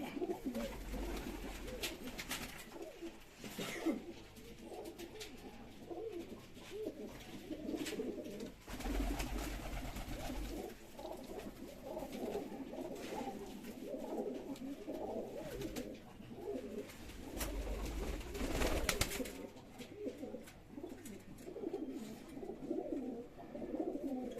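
Pigeons coo repeatedly, soft rolling calls close by, with scattered bursts of fluttering and low rumbles at a bird keeper's loft.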